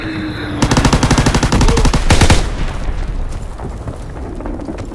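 Call of Duty WWII game combat: a fighter plane strafes with a long, loud burst of rapid machine-gun fire, then a heavy bomb explosion booms and rumbles away.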